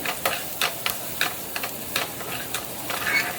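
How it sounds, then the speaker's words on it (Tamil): Onions are sautéed in a hot pan as the base for prawn thokku, with a steady low sizzle punctuated by a regular series of quick spatula scrapes and taps, heard close with no talking. "ஆனியனை போட்டு நல்லா வதக்கணும்."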